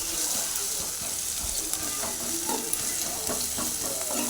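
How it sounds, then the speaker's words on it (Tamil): Onions fry in a pan toward golden brown, a steady close sizzle with occasional stirring scrapes and small pops, moderately loud and free of speech. "இப்போ நல்லா வெங்காயம் கோல்டன் ப்ரௌன் கலரில் வர வரைக்கும் நம்ம நல்லா வணக்கி எடுத்துக்கலாம்"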